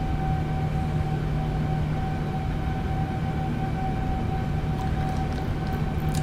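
Boeing 787-9 jet engines in Microsoft Flight Simulator, climbing at flight level 250: a steady, loud cockpit drone with constant tonal hums, unbroken throughout and with no talk.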